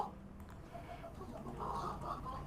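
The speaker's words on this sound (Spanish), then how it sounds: "se escapó la gallina" A hen clucks in short, soft bursts, faint and somewhat distant, against a muffled room background with no speech.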